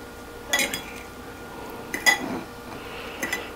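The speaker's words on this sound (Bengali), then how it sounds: "তো আমি আপনাদেরকে চামচ দিয়ে মেখে দেখাচ্ছি।" A spoon clinks against a bowl while a sweet corn and chickpea salad is mixed, three short bursts of scraping and clinking separated by quiet pauses, close and without talk.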